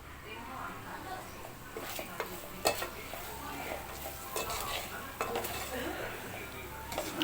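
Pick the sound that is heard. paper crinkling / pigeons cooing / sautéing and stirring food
sautéing and stirring food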